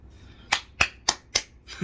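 A quick run of four or five sharp, crisp hand claps, evenly spaced and close, followed by a softer thud, with no talking.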